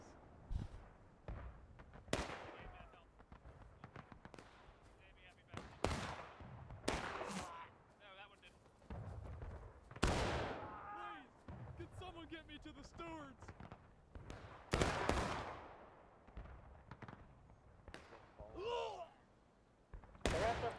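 Sharp musket shots crack out in a Civil War–era War of Rights battle at a log cabin, several loud bursts spaced irregularly, with voices talking between and over them.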